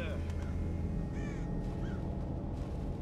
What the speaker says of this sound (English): Did the bird notice me?